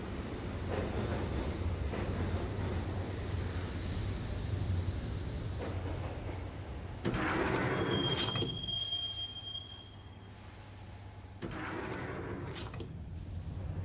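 A subway train ride in the Max Payne video game, with a continuous low rumbling roll of the carriage, a squealing wheel tone in the middle and shifting whooshes, moderately quiet and with no voices.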